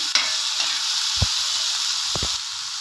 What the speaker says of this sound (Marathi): टोमॅटो पण छान असं भाजू द्यायचं तेलामध्ये, सारखं परतत राहायचं 2 मिनिट